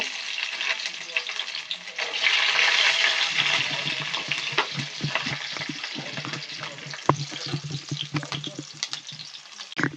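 Green beans sizzling and frying in hot oil in a wok (kadai) for pasta, with a loud burst of spattering at first, then steady crackle and intermittent stirring clatter close by.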